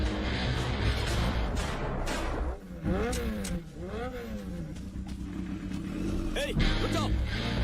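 A motorcycle being ridden off by a thief, its engine revving in repeated rising and falling surges over a continuous drone, fairly close and mixed with other background noise.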